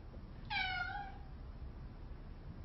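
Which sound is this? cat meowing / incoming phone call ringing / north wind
cat meowing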